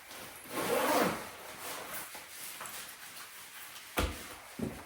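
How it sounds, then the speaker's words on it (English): Zipper on a KLIM Carlsbad motorcycle jacket being pulled closed, a soft rasping slide near the start, followed by faint fabric rustling and two small clicks, quiet and close. "Now let's zip this back up again."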